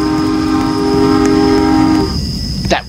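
A train whistle in the Roblox Jailbreak video game blows a loud, steady, sustained tone for about two seconds, then cuts off, followed by a short burst of noise.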